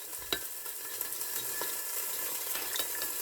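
Andouillette and mustard in a pan get stirred over a soft steady sizzle, with scattered light clicks and scrapes of the spoon against the pan, close but quiet and without voices.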